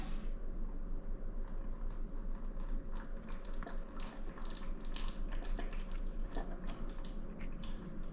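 Fluid drains from a 2000 Honda Civic Si into a pan, a steady close splashing trickle with dense spattering that continues evenly throughout.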